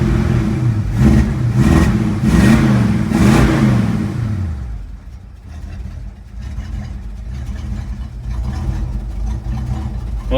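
A 1964.5 Ford Mustang convertible with a gummed-up carburetor runs close and loud, its engine revving in several rising pulls before settling into a rough, uneven idle while warming up.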